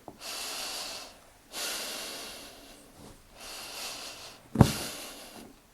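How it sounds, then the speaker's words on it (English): Deep diaphragmatic breaths are taken during a bird dog crawling exercise, with four long, airy, close inhales and exhales in slow rhythm, one ending in a sharp snort-like puff. "we do our diaphragmatic breathing from here"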